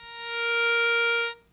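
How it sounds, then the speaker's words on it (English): Garrett Scorpion gold metal detector giving a loud signal on detecting metal, a single steady tone that swells up over about half a second, holds, then cuts off, with no talk. "Any increase of sound caused by the detection of metal"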